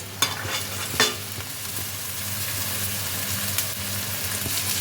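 Steady sizzling of carrots, capsicum and beans stir-frying in a hot pan, with a few sharp scrapes and clinks of a spatula stirring, close and continuous.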